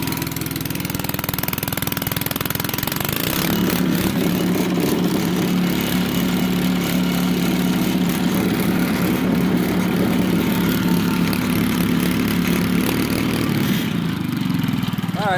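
A homemade generator's engine drones loudly and steadily, close up, with a constant mid-pitched hum and slight rev changes throughout, and someone speaks briefly over it.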